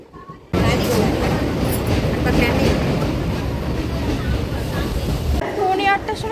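Passenger train pulling out of Bagula station: a loud, steady rumble and rattle of carriages from inside the train, starting abruptly after a quiet moment and holding level throughout.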